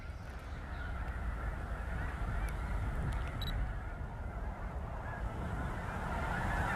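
A huge flock of about 150,000 snow geese, white and blue forms together, producing a dense, continuous wash of honking with a few sharper, nearer calls standing out above the steady din.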